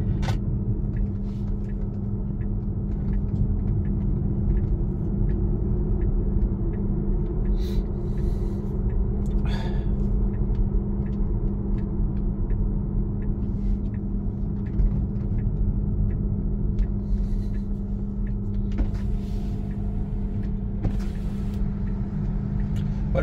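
A Tesla Model 3 rolls slowly back to the paddock at a race circuit, a steady low road rumble and tyre drone close to the cabin, with occasional faint clicks and knocks on top.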